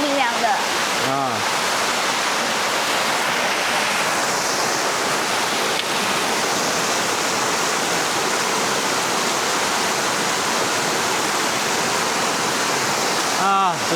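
A mountain waterfall of cold spring water roars as a constant, dense rush of falling water, loud and close throughout, with no pause.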